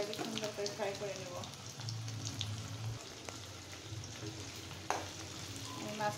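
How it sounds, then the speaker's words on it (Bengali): Fish fries in a pan with black cumin seeds, giving a soft, steady sizzle and crackle under a brief bit of speech at the start. "তাই আমি এখন মাছটাকে সুন্দর করে ফ্রাই করে নেব।"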